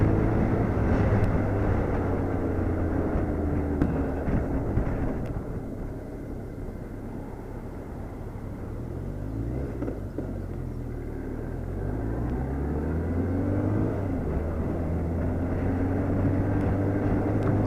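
A BMW K1200RS motorcycle ridden on the road, heard as a steady engine drone with wind rumble that dips and rises as revs change through gear shifts, fairly loud and continuous with no talk.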